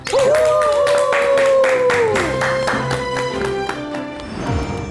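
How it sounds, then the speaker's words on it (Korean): Studio audience applause breaks out and holds steady for a few seconds, then thins out, with a sustained tone and voices mixed underneath. "큰 박수 부탁드립니다"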